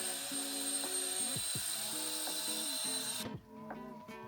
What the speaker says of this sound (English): we're gonna turn this blower to a lower setting, and we're just gonna blow it off.